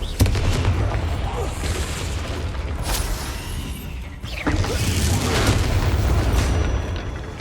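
Confringo blasting-spell explosions in Hogwarts Legacy, heavy booming blasts with a sharp hit near the start and another midway, each rolling into a dense rumbling tail under loud continuous game noise.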